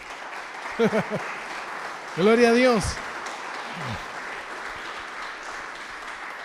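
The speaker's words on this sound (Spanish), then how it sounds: "Dale un aplauso al Señor" Church congregation applauding during a Spanish-language sermon, a steady moderate patter of clapping running through the clip beneath brief spoken phrases from the pastor.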